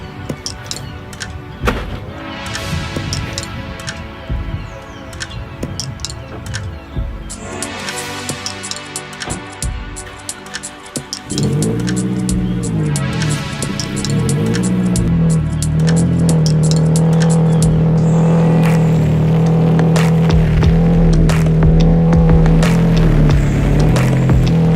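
A car engine starts and idles in a garage with a low rumble that grows louder and steadier as the car drives out, after earlier knocks and rustling nearby.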